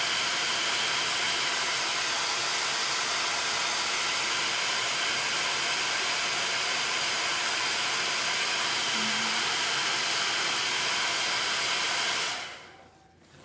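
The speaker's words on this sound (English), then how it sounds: "My blow dryer turns on by going up" A handheld blow dryer runs steadily for about twelve seconds, a loud, even broadband whoosh with a faint hum underneath, then cuts off and winds down abruptly at the end with no one speaking.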